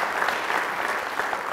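A brief burst of dense audience applause at an event, steady and fairly loud clapping filling the whole moment.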